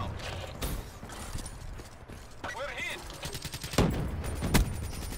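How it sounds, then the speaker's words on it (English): Explosions and gunfire in a video game: scattered sharp bangs and bursts with mechanical rattles, fairly quiet and irregular in rhythm. "there's so many explosions, it's not even funny"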